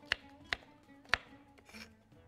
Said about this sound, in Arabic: بنقطع البصل بتاعنا مكعبات صغيرة